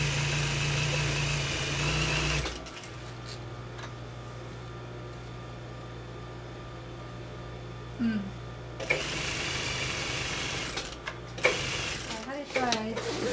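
An electric sewing machine stitches sofa cushion fabric, its steady mid-level hum running for several seconds before stopping, with a voice speaking and quieter handling noises before and after.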